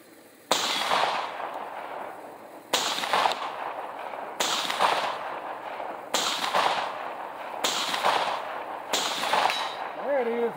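A Panzer Arms M4 shotgun firing slugs at 100 yards, five loud booming shots spaced about two seconds apart, each ringing out before the next.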